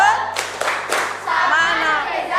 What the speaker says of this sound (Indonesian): Oke, kasih tepuk salut.